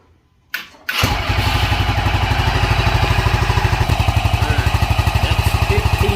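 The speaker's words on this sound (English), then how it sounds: "you want to start the engine. And then start it." A 200cc Vitacci Kandi go-kart engine cranks and fires up, settling into a fast, rhythmic, loud idle close by.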